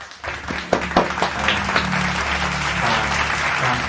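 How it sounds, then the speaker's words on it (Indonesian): Students in a classroom clapping for two classmates, a few sharp individual claps first, then a denser burst of applause that holds and fades, with a faint voice underneath. "berikan tepuk tangan untuk Jauza dan Pipit ya"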